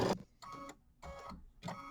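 An embroidery machine stitching snowflakes in white thread runs in a steady mechanical rhythm, repeating whirring pulses about every half second, close and fairly quiet.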